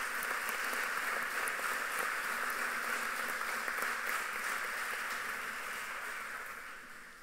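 Audience applause at a women writers' day event, a soft, continuous patter of many hands clapping at a distance, steady and fading out toward the end.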